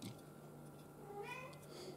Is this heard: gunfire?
no